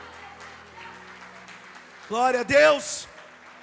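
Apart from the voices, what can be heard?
church congregation applauding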